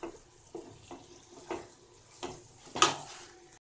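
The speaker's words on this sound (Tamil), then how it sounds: "இப்போ நம்ம ஃபுல்லாக இதை நல்லா கலந்து விட்டுக்கலாம்." Paneer fried rice is tossed and stirred in a pan, giving a soft frying sizzle broken by about six rhythmic scraping strokes, the last one louder with a metallic clink.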